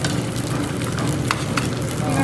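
Potstickers fry in a hot pan with a loud, continuous sizzle, dotted with occasional crackling pops.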